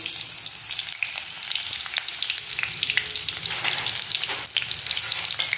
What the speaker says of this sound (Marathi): आपण त्याच्यामध्ये कांदा टाकूयात कांदा लाल होईपर्यंत आपण तो भाजून घ्यायचा आहे